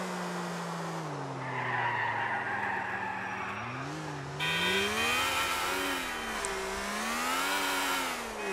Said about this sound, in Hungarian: Ez volt a világ leglassabb driftje.